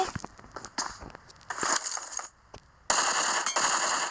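Video game gunfire rattles in rapid automatic bursts, dense and loud, broken by a short lull before a sustained final volley, with a faint voice in the background.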